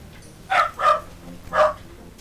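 Three sharp dog barks, two close together and one a moment later, sound from somewhere in a home, moderately loud against a quiet hum.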